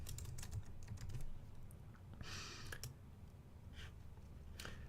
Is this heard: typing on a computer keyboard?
yes